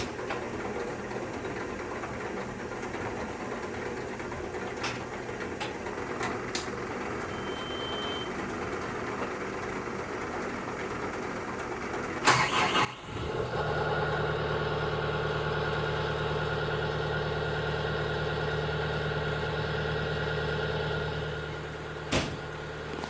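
A CAT 906M wheel loader diesel engine, with newly replaced injectors, turns over and fires on a cool morning, then settles into a steady even idle, heard close from inside the cab.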